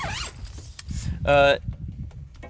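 A quick zipper pull on a CVT Mt. Hood rooftop tent, a short rasping burst lasting under a second, stands out over background talk and light handling noises.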